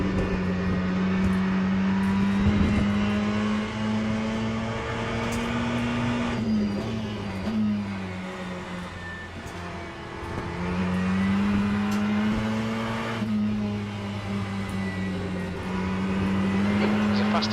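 Racing car engines in the video game Le Mans Ultimate drone continuously at high revs, pitch rising and falling through gear shifts, with a steady loud whine throughout and no talking.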